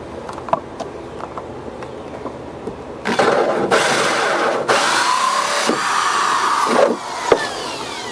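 A power drill with a hole saw grinds loudly through a wooden door in several sustained bursts, preceded by a few quieter clicks and knocks.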